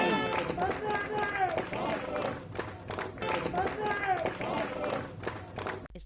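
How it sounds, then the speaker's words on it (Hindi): Audience at a community event in Mahavir Nagar, Janakpuri, West Delhi applauds to welcome a guest, with steady crowd clapping running under a voice speaking through a loudspeaker. "जोरदार तालियों से उनका स्वागत कीजिए"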